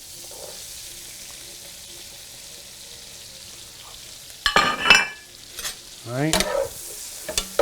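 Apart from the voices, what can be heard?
onions and mushrooms sizzling in a pan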